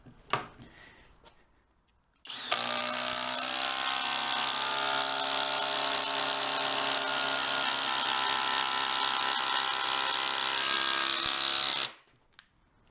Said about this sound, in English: We have 6 inch long, 1/4 inch lag screws. We're going to drive all 3